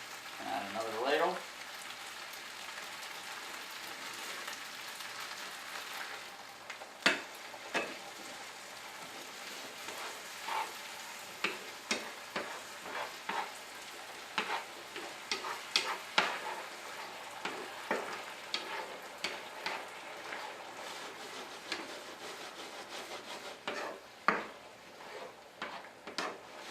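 A pan of kale risotto sizzles and bubbles steadily while it is stirred, with intermittent scraping clicks of the spoon against the pan under a constant frying hiss and no talking.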